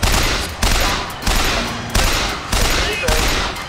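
Gunfire in BioShock Infinite: six loud, evenly spaced shots, each decaying before the next, close up and dominant.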